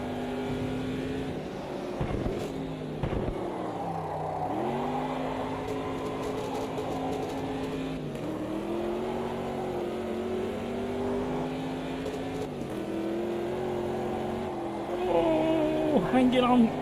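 Race car in Automobilista 2 drifting, engine note rising and falling in repeated revving sweeps with tyre noise, steady and close, with a voice talking over it.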